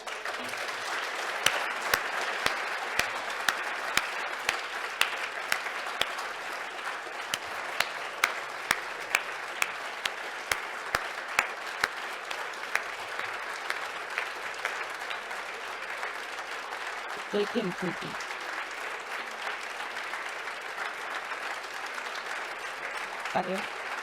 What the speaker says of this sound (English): So can I all ask you today to join me in a warm applause for Fausto.